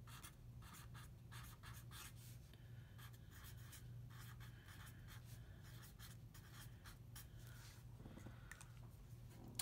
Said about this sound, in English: let me just go ahead and get this down because we all know I can't write and talk at the same time